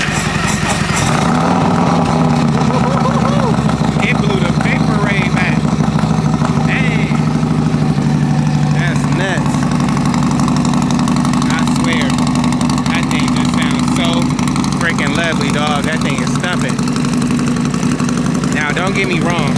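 A Harley-Davidson motorcycle engine idling steadily with a low, loping rumble throughout, close by, while someone talks over it.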